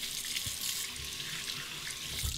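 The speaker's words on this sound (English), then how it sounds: "Rinse that." Tap water running steadily into a bathroom sink while a razor is rinsed during a wet shave, a soft continuous hiss and splash, close and alone.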